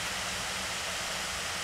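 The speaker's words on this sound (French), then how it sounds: "Et voici le bruit du MSI pendant le Cinebench." Laptop fan on an MSI machine spinning hard under a Cinebench CPU render, a steady broadband whoosh of airflow, fairly quiet and constant with no talk.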